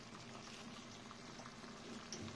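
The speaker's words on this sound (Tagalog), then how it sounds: "Kumukulo-kulo na ang ating gata na may karne." Coconut milk with pork simmers in a pot, giving a soft, steady bubbling hiss that stays faint and unbroken throughout, with no voices.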